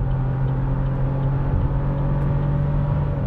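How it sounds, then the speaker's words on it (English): A 2024 Chevrolet Trax car accelerates hard from a standstill, its engine giving a loud, steady hum with a clear tonal drone that holds evenly for a few seconds, with no talking. "The combination of torque and good gearing allows us to get off the line with a remarkable level of haste."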